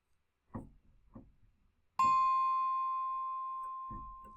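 A bombalung, a tuned percussion instrument in a software rack device, strikes one bright sustained note that rings and slowly decays, set between a few soft muted knocks before and after.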